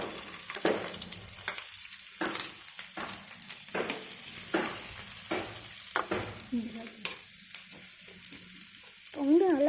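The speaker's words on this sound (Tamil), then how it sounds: "சூடான வாட்டி வெங்காயம் போட்டுக்கலாம்." Onions frying in hot oil in a pan while cooking a cheese bread omelette, a steady close sizzle with intermittent stirring scrapes and clinks, no talk.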